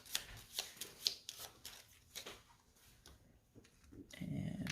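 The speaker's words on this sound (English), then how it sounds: "I'm going to go ahead and shuffle theirs" A deck of cards for the Gloomhaven: Jaws of the Lion board game is shuffled nearby, a series of quiet crisp riffling snaps and taps in an uneven rhythm, ending in a brief soft rustle.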